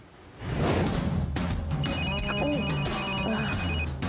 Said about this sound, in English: Bianca was just as surprised as anyone when she got a phone call one day in the Modelville house